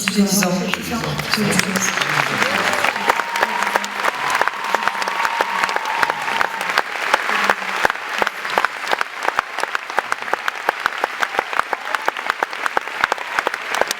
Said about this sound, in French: Vous pouvez les applaudir très fort